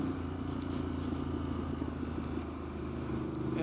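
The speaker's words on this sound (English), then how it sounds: "The engine sounds really nice with this exhaust now." Triumph Street Scrambler motorcycle fitted with an aftermarket exhaust, its engine holding a steady, low droning note while riding, fairly quiet and continuous with no talking.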